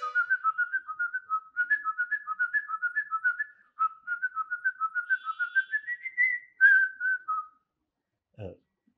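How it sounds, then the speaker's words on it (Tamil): A person whistles a song tune, a lively run of short, bouncing notes in quick phrases that climb toward a higher held note near the end, followed by silence and a faint thump. "அது விசில் பண்ணி காமிச்சேன்"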